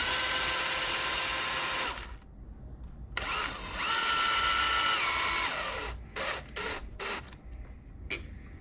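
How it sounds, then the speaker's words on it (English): A power tool drives a screw out of an Xmaxx Ultimate RC truck in loud, steady whirring bursts, a long run then a second long run, followed by several short stuttering pulses with brief pauses between them. "Same thing, take the screw off."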